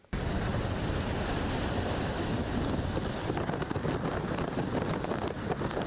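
Typhoon wind and heavy waves on a Hong Kong waterfront make a continuous, loud, close roar of gusting wind and surf, with no break across the whole stretch.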